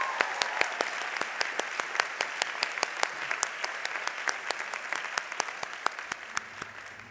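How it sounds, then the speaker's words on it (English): An audience at a law school commencement ceremony claps steadily, dense sharp hand claps sustained at an even level before gradually tapering toward the end, with no voices over it. "Another round of applause for Savannah Guthrie."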